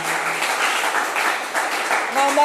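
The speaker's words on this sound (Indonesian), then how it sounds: "Tepuk tangan." Children clap hands together in a short burst of applause, brisk and continuous, near and moderately loud, with a voice briefly heard near the end.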